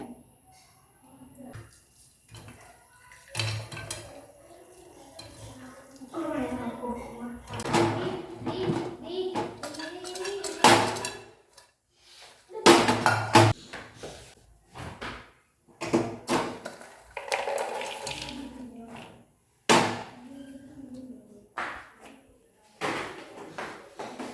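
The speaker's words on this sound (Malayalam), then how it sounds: "നമ്മുടെ പോപ്കോൺ പൊട്ടാൻ തുടങ്ങിയിട്ടുണ്ട് കേട്ടോ സൗണ്ട് വരുന്നുണ്ടേ" Popcorn cracking inside a pressure cooker in a home kitchen, sharp irregular pops and clicks arriving in scattered bursts, with someone talking close by between and over them.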